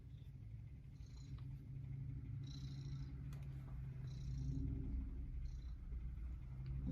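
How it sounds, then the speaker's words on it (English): A house cat purrs close to the microphone in a low, steady rumbling drone, with a few faint higher squeaks drifting over it. "Tried to get some cat purring noises in there on the mic for you."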